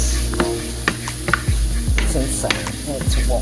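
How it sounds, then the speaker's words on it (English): Ground walnut meat for vegan spring rolls sizzles loudly in a pan, with steady frying hiss and scraping stirs at a brisk rhythm, close and prominent. "And it literally is frying up like ground beef."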